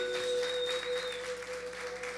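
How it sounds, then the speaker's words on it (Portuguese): A church congregation claps together during a Portuguese-language service, a short burst of fairly soft, steady applause over a constant electronic hum and faint tone. "Salva de palmas para ele."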